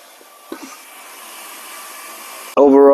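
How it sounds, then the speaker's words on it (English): A cordless vacuum cleaner fitted with its crevice tool switches on near the end, a sudden loud steady motor whine after a quieter stretch of faint background hiss and a couple of small knocks. "If you want to use the crevice tool to get inside the crevices, same thing. Turn it on,"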